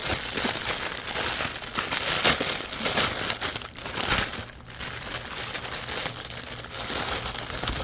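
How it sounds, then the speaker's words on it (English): Plastic packaging of craft supplies crinkles and rustles steadily and close up for several seconds during an unboxing, a dense continuous crackle with no talking. "So much crinkling. Crinkle, crinkle."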